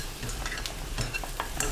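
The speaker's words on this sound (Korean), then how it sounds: "팬에 가지, 식용유 3큰술 넣고 센 불로 튀기듯 볶습니다." Eggplant stir-fried in three tablespoons of cooking oil over high heat, a steady close crackling sizzle with scattered spatter pops and light stirring scrapes throughout, no voices.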